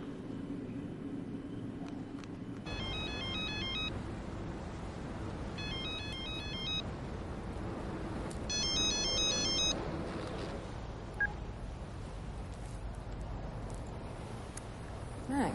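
A mobile phone ringtone repeating in three short electronic trilling bursts over a steady low engine-like rumble, the rings moderately loud and clear, with no speech over them.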